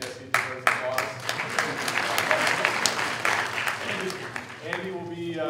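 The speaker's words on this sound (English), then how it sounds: "Yes, he deserves applause." An audience in a university lecture hall applauds a teaching assistant, with a dense burst of clapping from many hands that starts abruptly, holds steady and then fades, and a voice speaks near the end.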